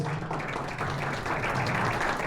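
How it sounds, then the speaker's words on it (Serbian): Dense, continuous applause from an audience at an automobile forum awards ceremony, steady and fairly distant, with no voices above it. "molim vas, aplauz"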